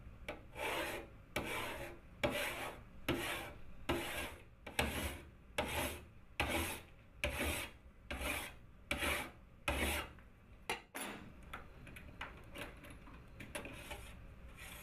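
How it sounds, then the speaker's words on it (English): A metal file rasping along the edges of a copper printing plate to bevel them, with about a dozen even, rhythmic strokes followed by quicker, lighter scrapes, close and clear. "a copper metal plate is cleaned and the edges are beveled"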